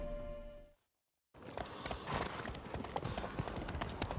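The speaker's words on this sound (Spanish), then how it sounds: "A caballo." Horse hooves clip-clopping along a road while riding in the video game The Witcher 3: Wild Hunt, a steady brisk rhythm of hoofbeats that begins after a brief silence, amid busy game ambience.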